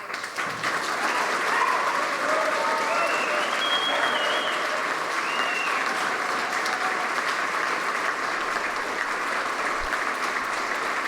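An audience in a room bursts into sustained, dense applause at a public hearing on a gun ban registry in Caseyville, Illinois, with clapping filling the space evenly for about eleven seconds and faint cheers or voices mixed in.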